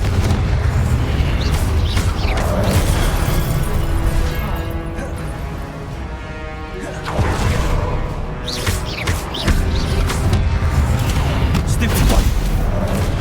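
Confringo blasting spells burst repeatedly during a Hogwarts Legacy duel, loud rumbling explosions stacked over a dense battle din, dipping briefly midway before resuming, with voices shouting spell names through the fight.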